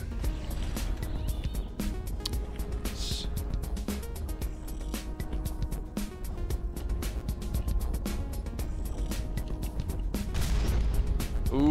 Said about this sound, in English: Ooh, rocket hit.